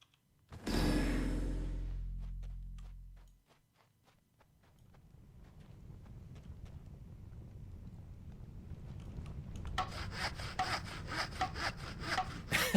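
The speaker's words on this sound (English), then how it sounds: "a wooden rasp. Wood rasp." Wood rasp scraping across a wooden piece, first one loud long stroke, then a steady low scratchy rubbing that grows gradually louder and brighter toward the end.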